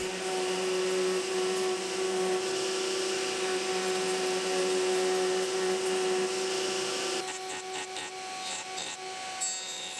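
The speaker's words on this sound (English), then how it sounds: "it's back to the router table to finalise the shape" A router table spins a bit against timber, shaping parts for a wooden stool. A continuous high, whining roar holds steady and then thins and changes character toward the end, with no voices.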